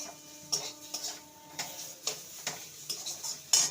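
A spoon stirs mashed boiled potato stuffing in a pan, giving soft, irregular taps and clicks of metal on the pan over a quiet background.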